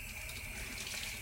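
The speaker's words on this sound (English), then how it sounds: "My sponge, I'm just going to run it under the water" Tap water runs steadily over a sponge held under the stream at a sink, a close, continuous rushing splash with no talking.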